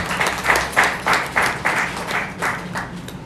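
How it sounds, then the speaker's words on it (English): A graduation audience applauding, a dense rhythmic wash of many hands clapping in steady pulses, moderately loud and sustained without talk. "Give yourself a round of applause."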